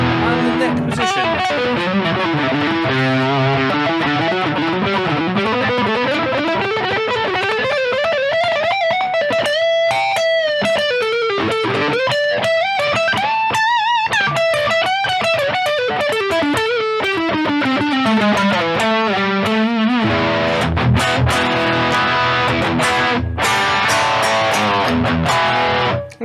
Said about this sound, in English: that is a range of the distortion tones